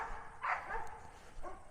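Neighbours' dogs and house dogs bark in the distance, two short faint yaps about a second apart against a quiet outdoor background.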